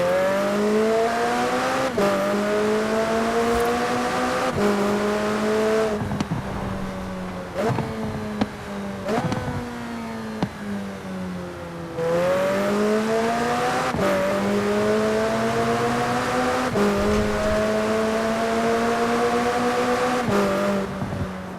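A McLaren sports car engine in Forza Horizon 4 revs and shifts through gears repeatedly, rising in pitch then dropping, loud and continuous with occasional tire noise.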